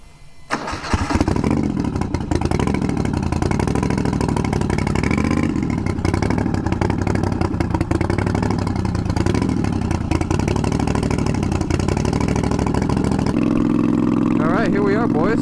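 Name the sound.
twin turbo Moto Guzzi V50 III cafe racer motorcycle engine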